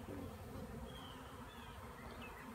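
A swarm of bees buzzes around a fig tree, a continuous, dense, quiet hum of many insects in flight with a few individual bees passing nearby, outdoors and without talk.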